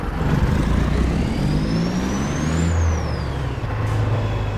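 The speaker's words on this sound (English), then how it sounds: "there is nothing like a classic cat engine sound for a truck" Freightliner FLB truck with a Caterpillar engine in American Truck Simulator, a loud steady diesel drone as it gets rolling, with a rising whine near the middle and no talking.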